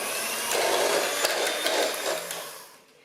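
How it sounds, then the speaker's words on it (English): An electric hand whisk beating cream makes a loud, steady whirr with a faint rhythmic churning pulse, close by, which winds down and fades at the end. "whisk the cream with my electric hand whisk for about 10 minutes"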